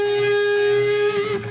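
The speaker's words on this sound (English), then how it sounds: "Okay, so you've got a whole step bend" A distorted electric guitar sounds a single sustained note pushed up by a whole-step string bend. It rings loud and steady for about a second before wavering and fading out, with no voices.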